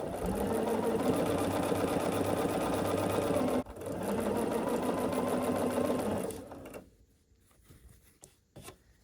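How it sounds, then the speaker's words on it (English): A sewing machine runs steadily, stitching fabric rectangles together for a scrappy sampler quilt block, loud and close, pausing briefly mid-seam before winding down to quiet handling sounds. "I'm sewing them together"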